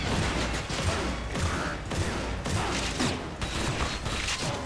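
Rapid gunfire in the video game Escape from Butcher Bay, dense bursts of shots crackling continuously over a loud, busy combat backdrop with no voices.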